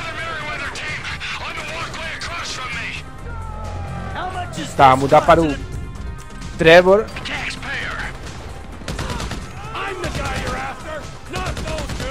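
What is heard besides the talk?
gunfire in video game GTA V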